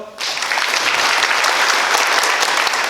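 Loud, dense applause from an audience at a new union members' training session, a sustained wash of clapping that starts abruptly and continues evenly without pause.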